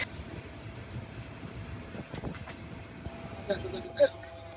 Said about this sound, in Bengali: আমরা ধীরে ধীরে প্রবেশ করছি গোপালগঞ্জ জেলার কাশিয়ানী জংশনে